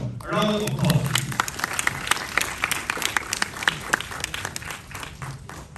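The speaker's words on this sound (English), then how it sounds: "A round of applause," An audience at a special film screening breaks into loud applause that starts a moment in and carries on strongly. Brief voices and cheers sound at the start, and the clapping thins slightly toward the end.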